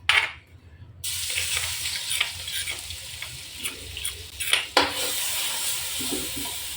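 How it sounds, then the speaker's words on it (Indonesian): Shallots, garlic, chili and candlenut are stir-fried in a home kitchen: a steady sizzle with repeated scraping strokes of a spatula, after a brief silent gap at the start; no talking. "Ini mau lanjut tak tumis dulu ya"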